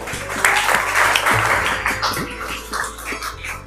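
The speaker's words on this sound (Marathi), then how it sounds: "अभिषेक साठी टाळ्या." An audience claps for a student's correct answer at an educational competition, a continuous round of applause over a steady low hum, with some voices mixed in.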